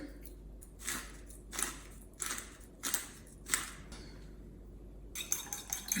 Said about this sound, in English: I'm gonna mix up the eggs.